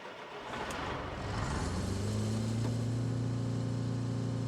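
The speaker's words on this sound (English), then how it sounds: "We need to get our crane truck out." A crane truck in the RoadCraft video game starts up and its engine rises into a steady, loud drone that settles to an even hum.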